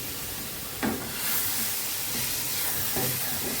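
Broth is poured into a pan of simmering Bengali rohu and eggplant fish curry, setting off a loud, steady sizzling hiss with a couple of brief splashes as the liquid hits the hot pan.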